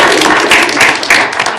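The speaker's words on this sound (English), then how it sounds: "Please join me in a round of applause for John Bannock." Short burst of audience applause at a city council meeting, loud close clapping from a smallish crowd, a few individual claps popping out of the steady patter.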